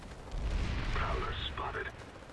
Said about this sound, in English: Have fun with the artillery landing on the other side.